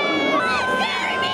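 Nearly 62,000 fans at a night football match between Chivas and Barcelona in San Francisco fill a stadium with loud, sustained cheering and shouting, a dense unbroken roar of voices.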